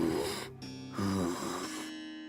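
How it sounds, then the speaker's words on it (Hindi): A frightening, raspy breathing effect for a Hindi horror story, heard alone as a few loud, drawn-out, snore-like breaths with a low rumble. "तभी उन दोनों को किसी के सांस लेने की भयानक आवाज सुनाई दी।"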